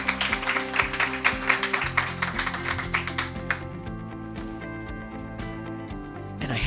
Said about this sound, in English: let's have a big applause for all three of our.